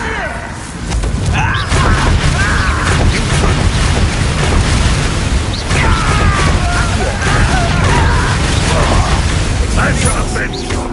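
Confringo fire-blast spells explode in Hogwarts Legacy during a spell duel, a loud, continuous barrage of booms, cracks and thuds with crackling magic effects, and voices shouting between blasts.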